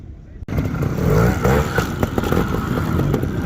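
A trials motorcycle crossing a log: a close engine revs sharply, blips and labors with clattering contact as the bike rolls over, under a voice talking throughout.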